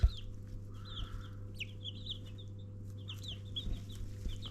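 Chickens (hens) cluck and chirp softly nearby in short, repeated bursts over a steady low hum, with no talking.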